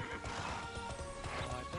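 A horse in the TERA video game gives a loud whinny while rhythmic clip-clop hoofbeats run under it, close and continuous through the short burst, with no talking.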